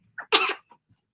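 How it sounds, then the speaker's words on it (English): One short, harsh cough bursts out close to the microphone, with a soft throat sound before it and a faint breath after, in an otherwise quiet room. "I am just coughing a little bit"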